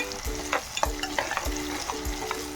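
Chicken crackling in hot oil in a pan for a chana dal chicken curry, close and steady, with repeated scraping stirs of a spatula cutting through the sizzle and no voices.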